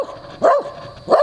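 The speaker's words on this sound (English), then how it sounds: "There's actually this dog barking at me right now." A dog barks outdoors, two loud, close barks spaced about half a second apart, standing alone.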